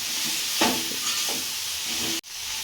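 Mudakathan leaves and grated coconut being sautéed in a pan, with a steady close sizzle and a few scraping stirs. The sound cuts off abruptly near the end.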